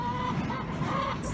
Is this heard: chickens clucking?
yes